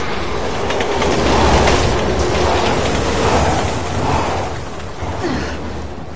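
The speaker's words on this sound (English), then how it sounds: "How are the trains still running?" A train rolls past in Resident Evil 6, a steady loud rumble of rail cars with clattering wheels that swells and eases slightly over several seconds, with no talk.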